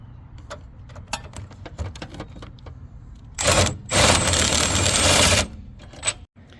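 Ratchet and tools working a subframe bolt loose under a Mazdaspeed 6 during a solid subframe and steering rack bushing install, with sharp clicks, rattles and a sustained loud burst of grinding mechanical noise midway.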